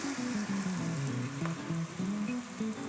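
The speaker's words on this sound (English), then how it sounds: "now immediately try and get most of the chili into that oil as soon as you can" Chili paste hits hot oil and sizzles steadily for a few seconds, a close, continuous frying hiss with stirring underneath.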